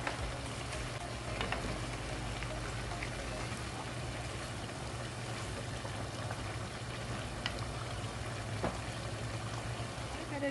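Potato stew with milk bubbling in a pot, a steady low simmer with soft popping and crackle, continuous and close throughout.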